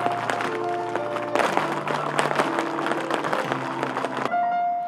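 Flamenco zapateado footwork from dance school students in Toledo, dense rapid percussive strikes over sustained guitar-like chords, steady and fairly loud.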